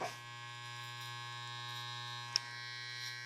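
An electric hair clipper runs during a haircut, a steady faint electric buzz held continuously with one tiny click partway through.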